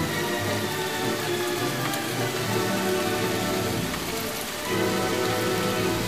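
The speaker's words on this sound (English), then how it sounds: "rain." Steady rain patters densely on surfaces, a constant close hiss of drops with a soft low rumble beneath, lasting throughout without any voices.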